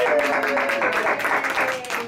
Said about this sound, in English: Yes, a big round of applause.